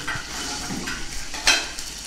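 Food sizzles in a hot pan, a steady crackling hiss with a brief louder burst of spitting partway through.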